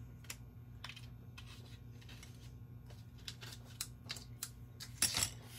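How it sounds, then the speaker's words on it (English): Scissors trimming excess cardstock off a handmade greeting card, a scattered series of quiet, crisp snips and paper rustles close to the microphone, ending in a louder burst of handling noise. "And then cut off what overhangs"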